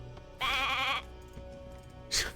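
Sheep bleating in the video game Divinity Original Sin 2, two clear bleats, a longer wavering one followed by a short second call, close and loud over a low game background.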